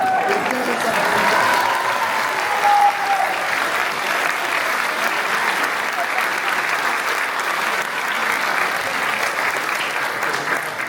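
An audience at a school evening concert gives sustained, dense applause for a group of younger pupils, the clapping steady and loud throughout with a faint voice briefly over it.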